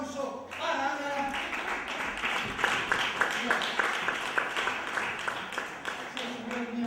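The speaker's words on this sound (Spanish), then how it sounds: "Señoras y señores, un fuerte aplauso para Ana." An audience at a theatre variety show gives a loud round of applause for a performer, mixed with voices and shouts, the clapping rising in the middle and tailing off as talk returns.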